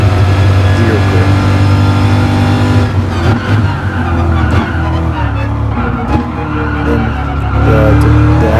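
A race car runs wide onto a grass patch and loses all grip, its engine roaring loud and continuous while the tires scrub and slide beneath the revving.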